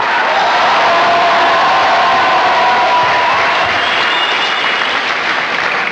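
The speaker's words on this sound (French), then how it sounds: "On applaudit Mathieu Soleil, ta danse du panda." A large conference audience claps steadily for several seconds, a dense, loud wash of applause with some cheering mixed in and no talking.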